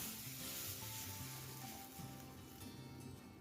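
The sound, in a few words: stirring crushed pepper and cumin in pan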